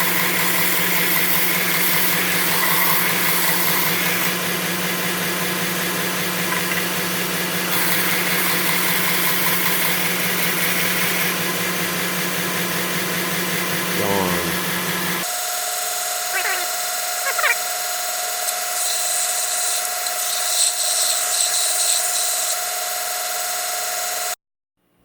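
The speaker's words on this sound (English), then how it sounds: "This will take material off really fast. I'm going to sand that out of there." A power sander removes material from a Click cigar pen kit with a loud, continuous whirring drone for about fifteen seconds. It then drops to a quieter, steady motor hum with a few clicks before cutting off abruptly.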